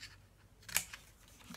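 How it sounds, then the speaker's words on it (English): Scissors cutting designer series paper for a craft flower box: one crisp snip close by, with faint paper rustles before and after in a quiet room. "I'm going to cut these and I'm going to notch them out"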